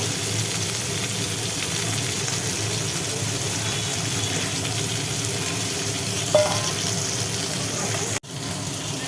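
Fish frying in hot oil for a Bengali fish curry, a steady loud sizzle running throughout with a brief clink near the end before a sudden drop.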